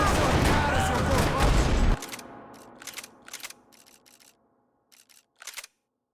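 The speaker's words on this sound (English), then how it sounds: "Another parking lot rattling with gunfire." Gunfire rattles through a parking lot in the Max Payne video game, a dense loud barrage that cuts off abruptly, followed by scattered sharp single shots and short bursts echoing with quiet gaps between them.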